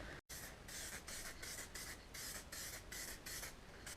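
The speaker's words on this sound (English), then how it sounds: "Just spraying up the subframe at the moment." Steady hiss of an aerosol spray can coating a car subframe, with a quick break near the start, then continuous spraying pulsing in short rhythmic bursts.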